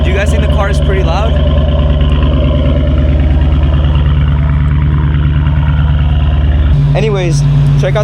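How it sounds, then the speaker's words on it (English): A Mercedes CLS550 engine runs loudly and steadily up close with a deep, throbbing exhaust drone, and its pitch shifts near the end. "Do you guys think the car is pretty loud?"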